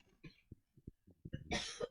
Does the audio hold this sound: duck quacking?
no